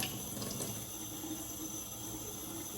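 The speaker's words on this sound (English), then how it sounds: "I'm rinsing everything in cool water" A bunch of parsley is rinsed under cool running tap water, a steady trickling and splashing flow at moderate volume with a faint hum behind it and no talk.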